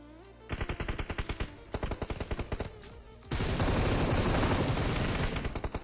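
Bursts of rapid automatic gunfire from an M249 machine gun in PUBG Mobile, two short volleys followed by a long sustained stream of loud, heavy fire, up close.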